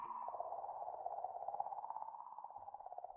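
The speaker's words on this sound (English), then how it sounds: "That is the sound of a comet." Comet sound recorded by the Rosetta spacecraft: a faint, steady pulsing warble with a rapid, clicking flutter, eerie and continuous, with no voices.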